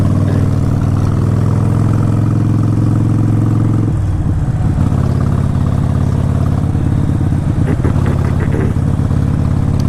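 A Harley-Davidson Sportster 1200 motorcycle engine runs loud and close, holding a steady low rumble that shifts in pitch and roughness around the middle as the bike rides on. No one speaks.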